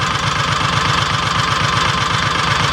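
The engine of a Kawasaki Mule 3010 utility vehicle idles steadily and close by with a low, even, chugging rumble while its carburetor is being adjusted, with no talk over it.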